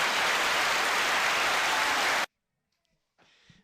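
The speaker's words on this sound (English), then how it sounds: "Nice applause coming from there." Crowd of baseball fans at a high school game between Pleasant Grove and Dixie clapping and cheering in a dense, loud wash for about two seconds, cutting off abruptly to near silence before a faint murmur returns.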